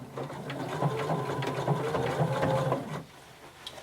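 Close, rapid mechanical chatter comes from a sewing machine back stitching denim, a steady run lasting about three seconds before it stops abruptly.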